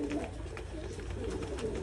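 Male doves coo softly and steadily, low repeated calls in a quiet, slightly noisy space.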